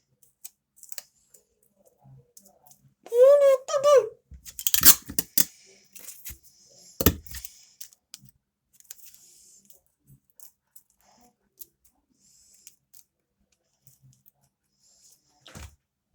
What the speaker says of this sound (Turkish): bantlıyorum